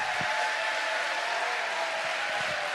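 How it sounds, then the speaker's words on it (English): Dense, steady applause from a large crowd honouring fencing medalists at a sabre tournament, continuous and close with no break across the span. "one last huge round of applause for all the medalists"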